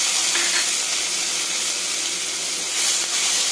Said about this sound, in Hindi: क्लोव को दो मिनट तक फ्राई होने देंगे।